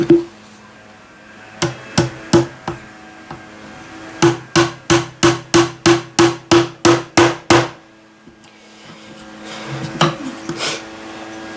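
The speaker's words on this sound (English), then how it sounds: "I'm nailing it in at such a weird angle." Small nails are hammered at an awkward angle into the planking of a wooden model ship hull: a few scattered taps, then a fast even run of about a dozen sharp, close strikes, then a looser cluster.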